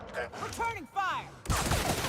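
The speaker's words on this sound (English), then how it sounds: "Returning fire!" Gunfire bursts in The Outer Worlds exchange in rapid clusters, loud and close, with a broadband crackle of shots dominating the final stretch while a voice and other game sounds come and go.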